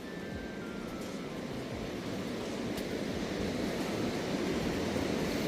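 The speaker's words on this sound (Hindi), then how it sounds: "आवाज सुनो पानी की" River water flowing along a night trek route in Dong Valley, a steady broadband rushing that swells slightly louder over the few seconds, heard alone without voices.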